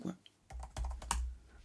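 Computer keyboard typing comes in a quick burst of close, crisp clicks and taps, with a faint voice nearby at the start.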